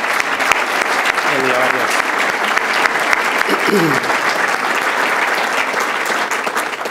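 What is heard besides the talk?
audience applause for treasurer staff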